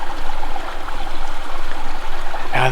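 A small creek at a wildlife refuge flows steadily and close, a continuous bubbling rush with no pause until a brief brighter splash at the very end.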